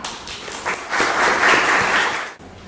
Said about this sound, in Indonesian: Beri aplaus buat Nispa.